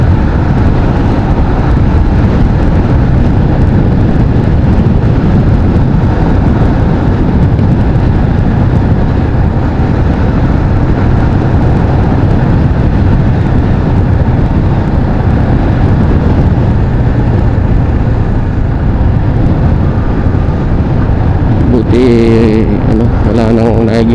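Motorcycle riding along a road in the Bicol region near Daraga, with a loud, continuous engine and wind roar throughout and some traffic noise toward the end.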